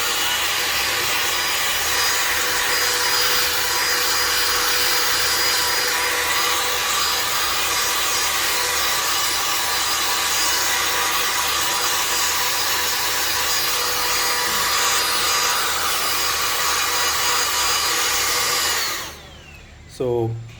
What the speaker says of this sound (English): you can use the brush part to clean the fan and blow the dust away